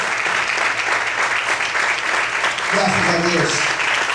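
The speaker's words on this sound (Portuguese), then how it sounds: "Você pode glorificar e aplaudir o Senhor nessa noite." A church congregation applauding during an evening service, dense steady clapping filling the room throughout, with a voice calling out over it near the end.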